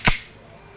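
A single sharp, close pop from an E&C airsoft Glock 17 pistol being fired during a velocity test, quick and dry with no echo.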